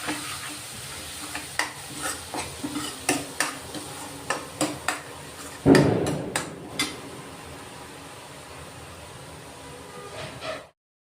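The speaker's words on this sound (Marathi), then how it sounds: "आता तेल सुटेपर्यंत हे वाटण आहे ना आपण चांगलं परतून घेऊ" Spice paste for a village-style fish curry fries in oil until the oil separates, with a steady sizzle broken by regular scraping and clinking of a spoon stirring the pan, plus one louder stir midway.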